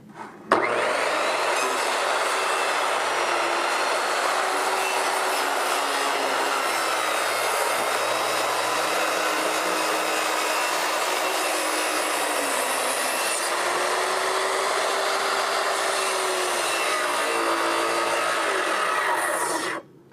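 A power saw runs continuously through wood while building a dock, a loud, steady, close-up whine that starts abruptly and cuts off near the end.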